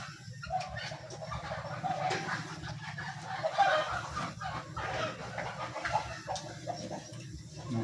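Chicken clucking amid a busy outdoor scene, a hen's short clucks repeating irregularly over steady low background noise with some rustling, no clear talk.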